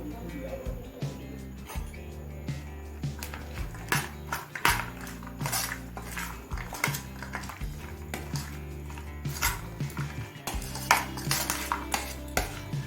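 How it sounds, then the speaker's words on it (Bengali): A spoon stirring chotpoti with spices in a bowl, quiet repeated scraping and clinking strokes in an uneven rhythm, close by, with faint kitchen background. "মশলাটা দিয়ে আরও একবার মিশিয়ে নিলাম"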